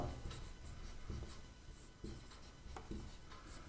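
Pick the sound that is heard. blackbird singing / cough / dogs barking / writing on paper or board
writing on paper or board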